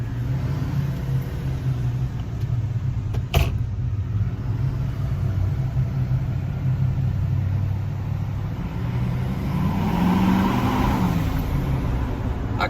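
A Duramax L5P diesel pickup fitted with a Banks Power Pedal in track mode drones with a steady low engine rumble from inside the cab, swelling slightly as it revs near the end, with one sharp knock early on.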